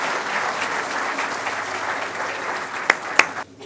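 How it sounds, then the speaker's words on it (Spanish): Audience in an auditorium at a scholarship ceremony giving steady applause, a dense even patter of many hands with a couple of sharper bumps before it cuts off abruptly. "Un aplauso para ellos, los invito a desplazarse por favor."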